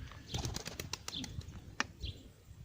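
Pet birds flap their wings in a quick irregular series while bathing in water inside a shower cabin, with close bursts of fluttering, splashes and a few faint chirps.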